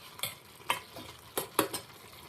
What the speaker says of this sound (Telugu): నేను స్టవ్ దగ్గర ఉండి కలుపుతున్నాను